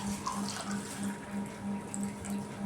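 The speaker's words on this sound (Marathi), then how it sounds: "धुवून घेते थोडस मटण" Mutton is rinsed under a running tap, a steady close stream of splashing water with a faint rhythmic pulsing underneath.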